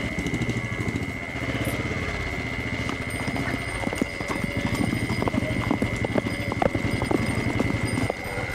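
Horse hooves clip-clop in a steady, fairly close rhythm over a continuous hum, with voices talking briefly in a Tamil television drama scene.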